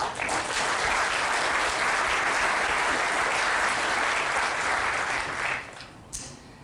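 An audience at a spring charity breakfast gives a round of applause, full, sustained clapping from many people that holds steady for about five seconds before tapering off into a few scattered claps.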